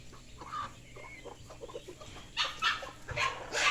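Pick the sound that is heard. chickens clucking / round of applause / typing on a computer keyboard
chickens clucking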